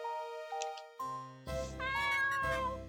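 A cat in the PC video game Murder Is Game Over gives a few short, clear meows alongside game chimes and tonal sound effects, fairly quiet.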